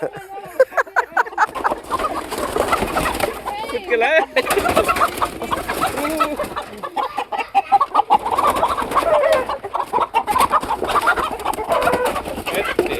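Chickens cluck and coo intermittently close by at a home puja gathering, mixed with other bird calls while people talk throughout.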